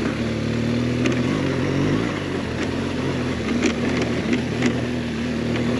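A BMW GS 1200 motorcycle rides along a trail with a steady, continuous engine drone that holds an even pitch throughout, with faint knocks and rattles over the top.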